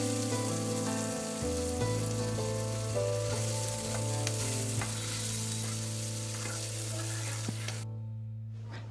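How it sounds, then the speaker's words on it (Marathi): Finely chopped medium onion hisses and sizzles in hot tempering oil, a dense steady frying sound over a constant low tonal hum, cutting off sharply near the end. "आता आपण या कांद्याला 1 मिनिटांपर्यंत चांगल्या प्रकारे तळून"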